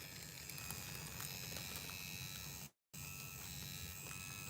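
Rocket permanent makeup machine fitted with a Quadron 035 one-round-liner long-taper needle, buzzing steadily and faintly, broken by a brief cutout near the end.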